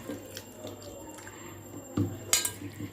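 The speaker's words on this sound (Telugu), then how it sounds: "జర మంచిగా కలుపుకున్నారండి." Chicken legs being mixed with masala powders in a bowl, soft wet squishing and scraping with a few sharp clinks against the bowl, quiet and close.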